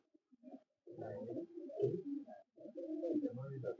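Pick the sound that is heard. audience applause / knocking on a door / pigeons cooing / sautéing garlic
pigeons cooing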